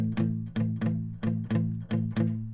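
Dull, choked, heavily palm-muted guitar chords from a 12-bar blues riff strike in a steady rhythm, each one muted and thumping with little ringing sustain.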